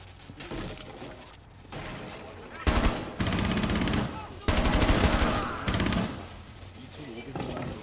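Gunfire in Rainbow Six Siege, bursts of automatic shots coming in loud blocks between quieter stretches, with players talking over and between the bursts.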